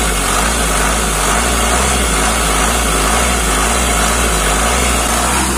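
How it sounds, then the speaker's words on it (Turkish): A VW Transporter T4 van's 2.5 TDI diesel engine runs at light throttle, a steady, loud, close drone with a constant low hum and no clear rise or fall, and no voices over it. "Sen direksiyona geç, hafif ara gaz verecektin arabaya."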